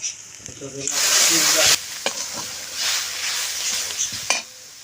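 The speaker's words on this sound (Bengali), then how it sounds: "কাঠখোল পাতাটা আমার ভাজা হয়ে গেছে" Kharkol leaves with salt, turmeric and chopped paste fry in a wok, a broad steady sizzle running close and loud with intermittent scraping stir strokes and a few sharp utensil taps, with no talking.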